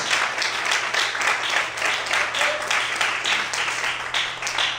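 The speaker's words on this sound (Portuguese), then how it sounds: "Você pode aplaudir o Senhor, queridos?" A church congregation applauds, with loud, steady clapping that pulses in waves for several seconds. A low steady hum runs underneath, and nobody speaks over it.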